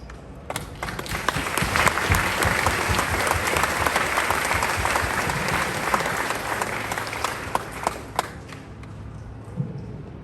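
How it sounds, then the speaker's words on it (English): Audience at a US Army graduation ceremony applauding the new soldiers, a sustained, dense wash of many hands clapping that stays loud and steady throughout, with a few louder claps and faint crowd voices. "please join us in giving these fine soldiers a round of applause"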